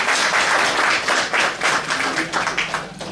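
Sustained audience applause at a Brahma Kumaris Trimurti Shiv Jayanti festival gathering in Sailana, Madhya Pradesh; dense, steady clapping from a crowd fills the whole stretch without a break.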